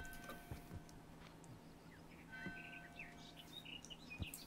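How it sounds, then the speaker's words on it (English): Birds chirp faintly in the game Human Fall Flat, with scattered short tweets and calls over a soft ambient background, quiet and distant. "Listen to the birdies chirp,"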